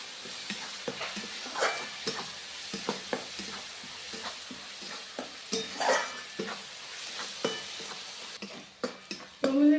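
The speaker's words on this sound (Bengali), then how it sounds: "পেঁয়াজটা ভেজে নিয়েছি, রসুন বাটা, আদা বাটা, এটা ভালো করে ভেজে নেব 2 মিনিট।" Onion with garlic and ginger paste frying in a pan for a curd-style catla fish curry, a steady soft sizzle broken by frequent scraping stirs of a spatula, close and moderately quiet with no talking.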